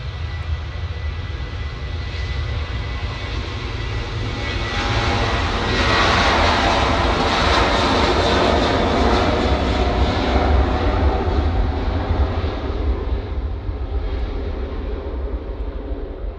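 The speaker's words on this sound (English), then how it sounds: "Got a Ryanair now on the roll." Ryanair jet on its takeoff roll at Manchester Airport, engines building from a steady rumble to a louder, fuller roar around the middle, then holding and easing slightly toward the end.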